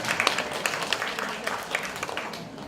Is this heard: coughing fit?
no